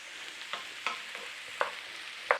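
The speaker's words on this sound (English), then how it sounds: "Now we're just sauteing these off a little bit." Vegetables and olives sautéing in a pan, a soft steady sizzle broken by a few light scraping stirs, quiet and close.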